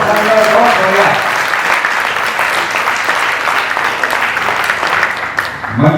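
An audience applauds performers at a stage event, a loud, continuous wash of clapping that holds steady throughout, with faint voices briefly audible at the start and end.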